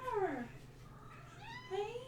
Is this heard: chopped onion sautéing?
no